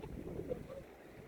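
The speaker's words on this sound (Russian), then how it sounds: "очень ветрено" Wind blows at the seashore in a quiet, steady low rush with slight gusting and faint surf-like wash beneath it, and no voices.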